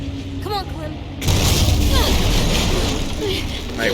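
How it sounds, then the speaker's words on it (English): Explosions and gunfire boom in a tense scene of the video game The Walking Dead: Final Season, a sudden loud burst that becomes a sustained rumbling barrage, while voices speak over it. "where are these extra explosions coming from?"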